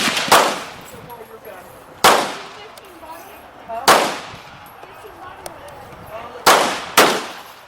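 Single gunshots crack at an outdoor shooting range, five loud, sharp reports spaced unevenly a couple of seconds apart, with faint voices between them.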